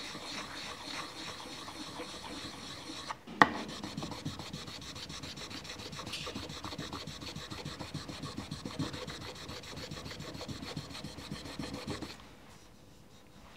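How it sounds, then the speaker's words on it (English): A slightly abrasive Nagura stone rubbed back and forth over an inked woodblock, a fast, even rasping scrape sustained for about nine seconds before stopping, close and quiet. "with the same tool we used a minute ago, the Nagura stone, which has a pretty flat back"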